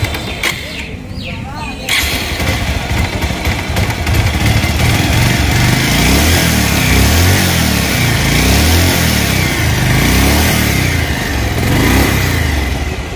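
A Bajaj Pulsar motorcycle engine runs steadily and smoothly, revving up a little, a loud, continuous close-up drone that fills the whole stretch.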